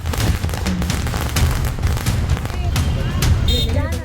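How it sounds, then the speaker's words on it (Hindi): Dense rapid crackling pops from strings of firecrackers going off continuously in a street celebration in Maharashtra, India, with crowd noise and voices underneath. "सड़कों पर फूटती पटाखों की ये लड़ियां"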